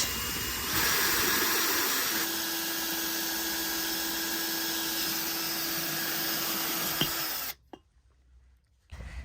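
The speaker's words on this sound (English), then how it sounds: "I'm using a 3/8 inch diamond hole saw bit." A 3/8 inch diamond hole saw bit drills into a vase in a steady, whining grind that holds for about seven seconds, then cuts off abruptly, leaving near silence with faint handling noise.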